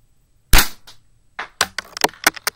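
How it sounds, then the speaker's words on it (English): An Army Armament R31 airsoft pistol fires indoors, one sharp loud crack up close followed by a short pause, then a cluster of lighter clicks and small impacts of the slide cycling and pellets striking nearby objects. "But now we're gonna shoot the bullets."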